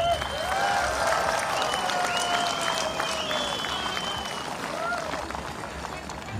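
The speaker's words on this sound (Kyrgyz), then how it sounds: "Кана кол чаап коелу туугандар." A crowd claps steadily at a political gathering in Özgön, Kyrgyzstan, where a politician is addressing the people. The dense applause carries on for the whole stretch, with voices and shouts mixed into the clatter.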